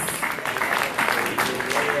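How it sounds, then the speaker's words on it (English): An audience at a youth poetry reading claps steadily and loudly for a couple of seconds, a dense continuous patter of many hands. "Clap it up for the poets."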